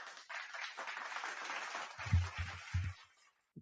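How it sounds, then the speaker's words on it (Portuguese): Short burst of clapping from a few people, fairly faint, lasting a few seconds before trailing off, with a couple of low thumps near the end. "Mais um aplauso"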